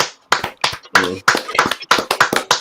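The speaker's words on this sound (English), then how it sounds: "That's all very American slow clapping." Slow clapping from a small group of men, a run of sharp hand claps at an unhurried, slightly uneven pace, close and fairly loud.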